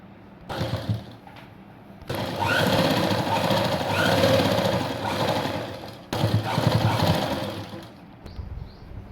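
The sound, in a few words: sewing machine stitching a blouse seam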